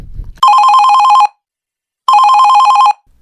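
Phone ringing in the video game EA College Football 25: two loud, close electronic trill rings, each under a second, separated by a brief silence, with no talking.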